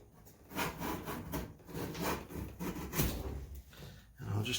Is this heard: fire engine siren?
no